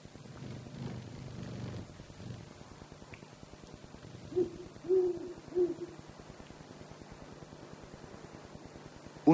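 An owl resting in a cave in Ecuador by day gives three soft, low hoots in quick succession, faint beneath breezy wind rumble and a low background hum.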